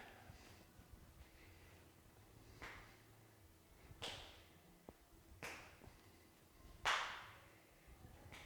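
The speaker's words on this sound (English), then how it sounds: "So clap the hands behind your back." Hands clap behind the back during a stroke exercise class, a handful of sharp, separate claps spaced a second or two apart over a quiet room, the last one loudest.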